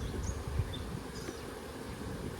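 Honey bees buzz at a hive during an inspection, a continuous low drone close by with a few individual bees flitting past, faint and steady.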